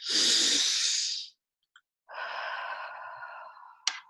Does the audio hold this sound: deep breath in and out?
yes